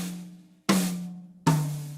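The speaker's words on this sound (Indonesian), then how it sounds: "Ini suara snare-nya dimasukin sama dia di situ." Two separate strikes on a Yamaha electronic drum tom-tom, each ringing with a low tone and a rattling snare buzz that decays slowly, the earlier hit still fading at the start; no voices.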